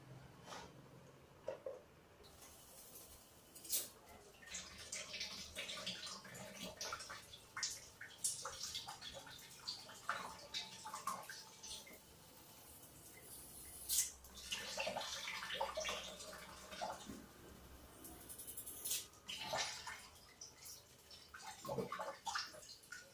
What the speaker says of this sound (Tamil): மோட்டர் ரன் ஆகுது.